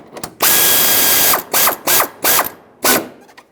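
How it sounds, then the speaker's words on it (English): A ratchet clicks in several quick bursts as two bolts holding the plastic upper fan shroud to the radiator of a 2011-2018 Ram 2500 are snugged down, loud and close with short pauses between strokes. "Put back the two bolts that hold the shroud onto the radiator"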